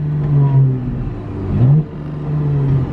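A 2022 Porsche Panamera 4 E-Hybrid engine revs from inside the cabin, a low steady hum that rises sharply in one quick throttle blip before settling back to idle.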